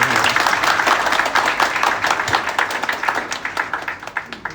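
An audience claps at a retirement function at an industrial research institute, a steady burst of many hands that thins toward the end, with no talk over it.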